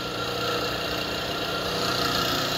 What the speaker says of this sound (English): This concludes the inspection of the Andrew Chow engine lathe